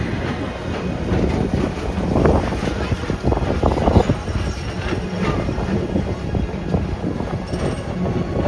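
Disney PeopleMover ride vehicle at night in Tomorrowland, Magic Kingdom, rolling steadily along its elevated track with a continuous rumbling drone and faint rattles, some louder clatter midway, and a background announcement voice.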